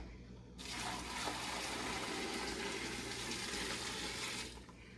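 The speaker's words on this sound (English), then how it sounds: "that gallon of water is perfect to cover the amount of cucumbers I have in here" A gallon of water pours into a pickling jar over cucumbers, starting abruptly as a steady, splashing rush that runs for about four seconds and then stops.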